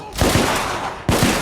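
Loud gunfire from the video game The Order: 1886, two close bursts of shots with rattling echo, the second starting about a second after the first.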